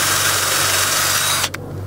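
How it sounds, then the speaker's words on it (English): A power drill with a 5/32 inch bit boring a drain hole in the end of a wooden strawberry crate, a loud steady whine running almost two seconds before cutting off abruptly. "I first start by drilling a hole with a 5/32 inch drill bit."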